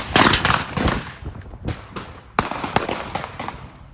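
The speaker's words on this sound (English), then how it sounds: "gunshots start going off and the video starts getting blurry" Rapid bursts of loud, sharp gunshots ring out outdoors during a rapper's Instagram live stream, coming in irregular clusters across a few seconds with ragged echoes between volleys.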